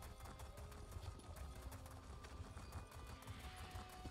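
Horse hooves clip-clop at a steady trotting rhythm in the Elder Scrolls Online video game, faint and even throughout, with game ambience behind them.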